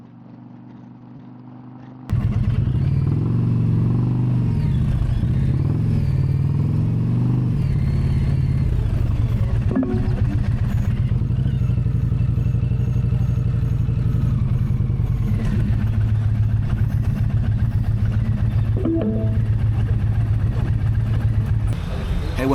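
Several motorcycles' engines rumble steadily at close range on a road after a brief quiet start, with a low droning roar that rises and shifts as the bikes ride along.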